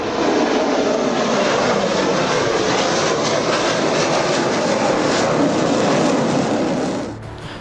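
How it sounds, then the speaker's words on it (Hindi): Fighter jets at the Bengaluru air show produce a loud, sustained roar that holds steady and alone for about seven seconds, then fades away sharply at the end. "लड़ाकू विमानों की गर्जना"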